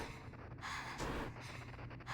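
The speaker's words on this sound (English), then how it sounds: "very loud, heavy breathing that we get when we have this little life left." A low-health character in a ghostly viewfinder game breathes heavily, with audible gasping inhales and exhales in a slow rhythm, quiet and close under a faint background hum.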